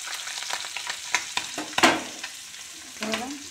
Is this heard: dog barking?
no